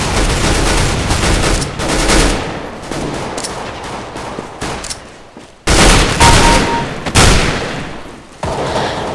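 Bursts of gunfire in Counter-Strike, loud and close, with sharp shots and rapid strings repeating in clusters separated by brief lulls, including a hard onset midway.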